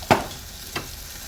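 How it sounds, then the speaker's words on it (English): Oil-soaked pork spare ribs sizzle on a barbecue grill in two short bursts, a sharp crackle followed by a fainter hiss, close up with no voices. "you can hear it sizzling away"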